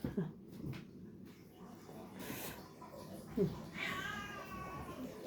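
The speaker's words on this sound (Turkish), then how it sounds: "o ona miyavlıyor, o ona miyavlıyor, o ona miyavlıyor" Faint cat meows, one rising and falling cry standing out against a hushed, noisy background with soft breathing sounds.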